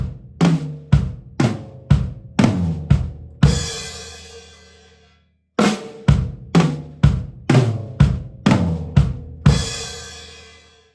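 Drum kit groove of flams on quarter notes with bass drum, closing on a bass drum and crash cymbal downbeat that rings out long, then the pattern repeats and ends on another crash; close, loud and free of talk.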